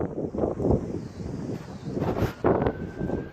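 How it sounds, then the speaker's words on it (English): Wind gusting across an open hillside garden plot, a steady rushing buffet against the microphone with louder surges, no voices. "I do apologise about the wind"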